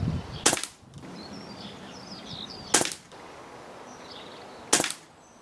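Three sharp cracks from a Daystate Renegade .177 air rifle, spaced about two seconds apart, each a loud close snap followed by quiet outdoor background with faint birdsong.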